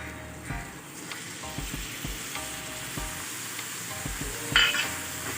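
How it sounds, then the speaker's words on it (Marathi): Curd is stirred into chillies in a pan over low heat, with a continuous moderate sizzle and repeated soft scraping strokes of a spoon at an irregular rhythm. "दही टाकल्याबरोबर असं ढवळत राहायचं गॅस कमी करून बघा"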